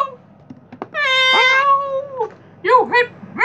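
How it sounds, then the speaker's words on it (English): A house cat meows loudly in a long drawn-out call, followed by a few shorter rising meows, with soft thumps before it and no talking. "Hey, look, it's a cat."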